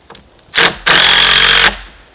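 A power driver sends screws into the wooden frame of a deck platform for a hot tent: a short whir, a brief pause, then a longer, loud, steady whine up close that stops abruptly.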